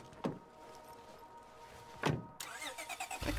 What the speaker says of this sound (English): And now I can get back in my car and get out of here.